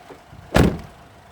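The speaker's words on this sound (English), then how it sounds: "I'm going to go to the other side. Open the doors." A single mini truck door slides or swings open with a loud, brief mechanical rush, close by, with quiet surroundings before and after.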